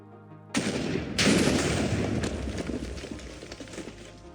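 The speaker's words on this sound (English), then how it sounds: "Here, we see that most of the explosion is contained within a 10-block radius with one end going as far as 20 blocks" Eight blocks of TNT detonate in Minecraft, a sudden loud blast followed by a second burst and a rumbling, crackling decay that fades over several seconds.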